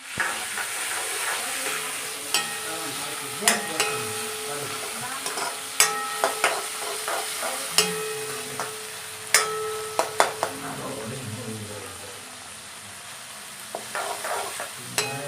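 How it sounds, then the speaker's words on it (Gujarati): Tomatoes and curry leaves sizzle in a hot pan while a spoon stirs and clinks against the metal in repeated sharp taps over a continuous frying hiss, close and fairly loud, with no speech. "મીઠી લીમડી પણ નાખી દઈશું ટમેટા પણ નાખી"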